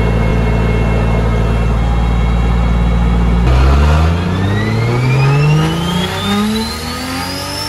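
A turbocharged BMW E36 drift car engine holds a loud, sustained high rev on a dyno, then drops off and winds back up in rising sweeps, close and alone with no talk.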